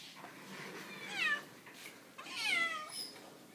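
A cat gives two drawn-out meows, the second longer and higher, fairly soft and close, with a quiet room in the background.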